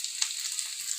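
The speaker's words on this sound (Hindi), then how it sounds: "इस प्रकार से मीडियम आंच पर इनको पका लेते हैं।" Stuffed okra (bharwa bhindi) sizzles in an open pan over medium heat, giving a soft, steady close frying hiss with faint crackling pops.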